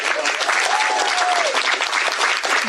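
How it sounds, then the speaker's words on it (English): A crowd applauds loudly and steadily throughout, with a faint whistle rising briefly above the clapping. "Please give Governor Inslee a round of applause."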